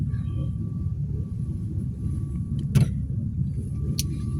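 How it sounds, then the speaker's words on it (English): Car running with the heater on, heard from inside as a steady low rumble and hum throughout, with one brief knock. "I have my car on today."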